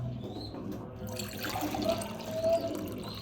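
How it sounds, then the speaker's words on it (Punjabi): Water pours steadily into a jug, a continuous close rushing and splashing that swells slightly louder near the end, with no voices. "ਪਾਣੀ ਭਰਦੀ ਏ ਬਾਬਿਓ ਤੇ ਜੱਗ ਰੱਖ ਲਈ"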